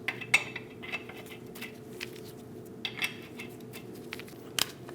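Lug nuts being threaded onto a Chevrolet Silverado 2500 HD wheel, faint metallic clinks and small taps scattered over a low background hum, close but quiet, with no speech.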